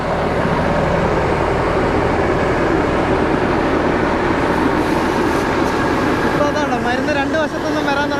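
A small pesticide sprayer machine on a grape farm runs steadily with its rear fan spinning, a loud continuous motor and fan roar from start to finish.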